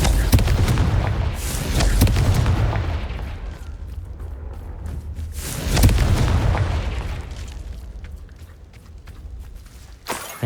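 Explosions from the Confringo fire spell in the Hogwarts Legacy video game: two deep, rumbling booms a few seconds apart, each fading slowly, followed by a sharp, sudden pop at the end.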